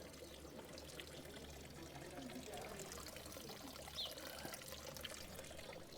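Faint, steady trickle of water from a fountain in the Swiss Alps near Zermatt, with a low continuous hum underneath, quiet and unbroken throughout.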